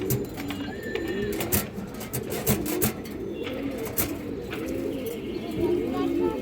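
Pigeons, including a light-coloured sobji hen, coo in a steady, overlapping murmur at a seller's stall, with a constant rumble of background noise underneath.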